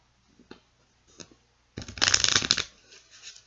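A couple of light card flicks, then a rapid riffle shuffle of playing cards, close and crisp, followed by a softer settling of the deck.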